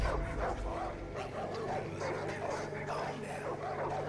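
Dogs in the video game Far Cry 5, repeated barking and yapping at a moderate distance, fairly faint and mixed with game sounds and background voices.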